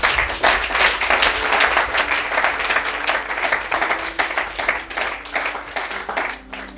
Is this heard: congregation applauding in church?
yes